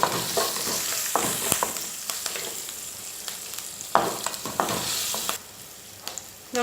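Ginger, green chilli and asafoetida sizzle in hot oil while a spoon stirs and scrapes the pan, giving a crackling hiss broken by repeated sharp utensil knocks, close up and with no voices.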